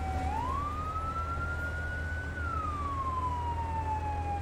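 Fire engine siren in the video game Firefighting Simulator - The Squad, a single rising then slowly falling wail over a low engine rumble, steady and clear with no talk.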